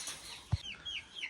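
A brooding hen on a farm, nesting on her own and turkey eggs, gives a few soft, low clucks alongside brief higher chirps, fairly close and quiet with no talk.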